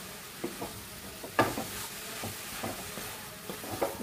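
Grated carrots are stirred in a pan for a sugar-free carrot kalakand, giving a quiet, steady sizzle with repeated soft scraping strokes and one sharper knock against the pan.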